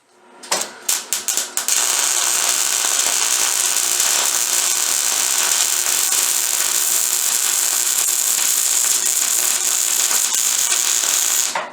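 A clamped metal part on a Protero bagger motorcycle is ground down: a few short revving bursts give way to a loud, steady, high-pitched grind that runs unbroken for about ten seconds, close up with no talk.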